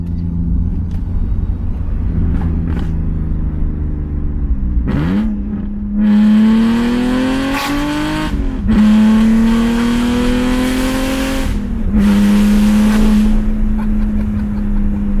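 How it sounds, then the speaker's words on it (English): A BMW E46 330i with a twin-screw supercharger revs repeatedly, rising and falling in pitch with a deep rumble and a whining supercharger tone, loud and close with no talking. "I'm just gonna let the car talk."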